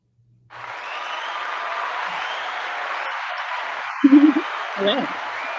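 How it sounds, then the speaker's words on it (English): Applause starts suddenly after a short silence and holds as a steady, moderately loud wash of clapping, with a couple of brief voice-like bursts near the end. "You get an applause."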